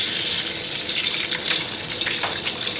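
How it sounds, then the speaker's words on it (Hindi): An egg dropped into hot cooking oil in a pan for Chinese fried rice, giving a steady loud hiss and sizzle with a few crackles throughout, close up and with no talking. "और इसमें हम डालेंगे अंडा।"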